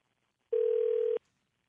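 A single short telephone dial tone, a steady pure hum lasting under a second, clean and alone against silence.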